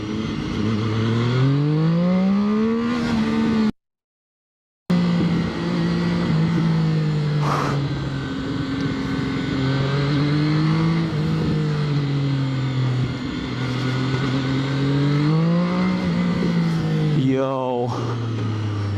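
A Zxmoto 820RR motorcycle engine revs and accelerates repeatedly, its pitch climbing and falling in several rising sweeps, loud and close, with a brief cut-out near the start and wind noise throughout.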